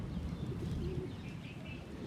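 Low, soft cooing of Punjabi pigeons fills the clip, a steady murmur of throaty calls close by with faint chirps above.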